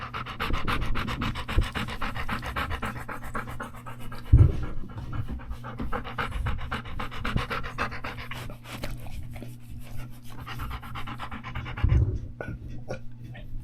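A dog named Appa pants close by in fast, steady breaths throughout, with a few louder huffs and a faint background hum, no talking.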